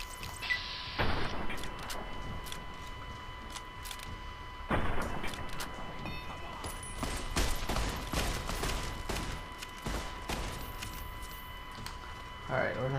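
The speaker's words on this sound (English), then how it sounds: "Shotgun." Shotgun blasts in Fallout New Vegas: a few loud, separate booming shots spaced several seconds apart, amid game sounds and a person talking.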